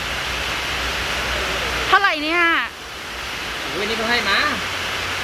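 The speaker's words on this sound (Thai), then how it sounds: "ฝนตกแรงมากค่ะ" Heavy rain pours in a steady, loud hiss throughout, while people talk over it in bursts.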